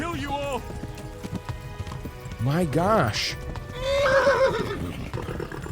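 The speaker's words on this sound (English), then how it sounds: "Come on, horse! Save me from here." A horse gallops with steady clip-clop hoofbeats and lets out loud whinnies in the medieval video game Kingdom Come: Deliverance, while someone talks over it.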